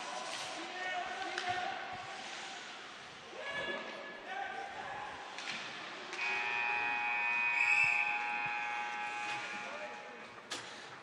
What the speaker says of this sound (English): The buzzer sounds for the end of the first.